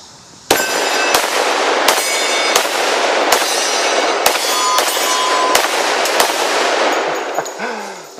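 Rapid shots from a Glock 29 pistol loaded with heavy Buffalo Bore hard cast bullets, nine loud sharp reports about a second apart with echoing tails, followed by a brief metallic clatter.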